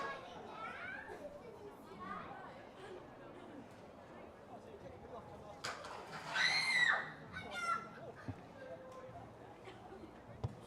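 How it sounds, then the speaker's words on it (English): Children scream and shout in the background at a girls' under-18 rugby match between a secondary school side and Waikato, with crowd babble throughout and a louder burst of high shrieks partway through. "Excuse me, folks, with the screaming in the background."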